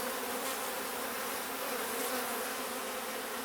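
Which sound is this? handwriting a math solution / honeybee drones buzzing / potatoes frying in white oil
honeybee drones buzzing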